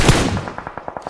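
A burst of rapid automatic gunfire in PUBG Mobile, a loud opening blast followed by a steady train of evenly spaced shots, close and alone.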